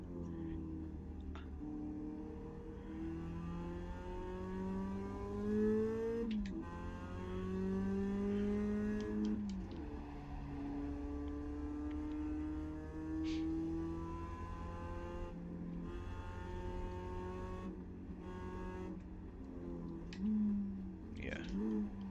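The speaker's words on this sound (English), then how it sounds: "I'm technically braking in a straight line before I turn in" Simulated race car in iRacing braking in a straight line before a turn, the engine note sweeping down and back up repeatedly as it downshifts and accelerates, heard beneath a voice.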